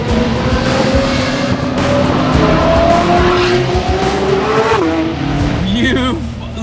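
A sports car launches hard from a standstill, its engine note climbing loud and close while tires squeal and chirp, with people talking over the roar throughout.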